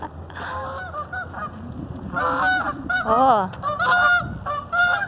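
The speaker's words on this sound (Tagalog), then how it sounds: "It's loud, the geese." Several geese honk loudly and repeatedly in an outdoor backyard setting on a windy day, their calls overlapping in bursts with a brief spoken exclamation.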